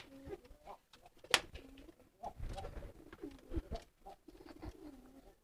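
A pet pigeon coos in soft, rounded bursts that repeat through the stretch, close by and fairly quiet, with a sharp brief click partway in and faint room noise between the calls.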